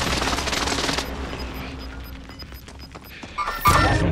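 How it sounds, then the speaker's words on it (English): An enemy precision airstrike in Call of Duty: Modern Warfare opens with a loud, dense roar of fire. Scattered crackles and thuds follow, then another heavy blast near the end, with no one talking. "Enemy precision airstrike."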